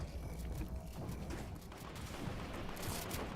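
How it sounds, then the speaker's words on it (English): Chug cannon fire rattles in rapid, dense bursts during a Fortnite solo tournament match, the shots blending into a continuous crackling barrage at moderate distance with no talking. "You're hearing the chug cannon."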